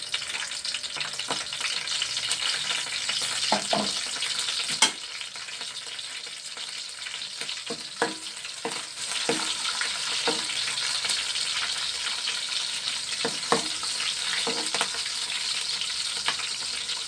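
Small pieces of green chilli frying in hot oil, giving a steady, close sizzle with scattered crackles and occasional stirring clicks throughout.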